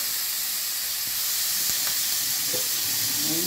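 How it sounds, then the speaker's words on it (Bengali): Prawns frying in a small amount of oil for a prawn chowmein, a steady close sizzle and hiss with a few soft stirring knocks underneath. "চিংড়ি মাছটাও ঠিক ওই তেলেতে, এইটুকুনি তেলেতেই ভেজে নেবো"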